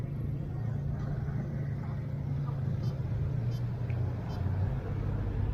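Steady road traffic rumbles close by, a continuous low engine drone with tire noise that holds evenly throughout, joined by faint brief higher clicks.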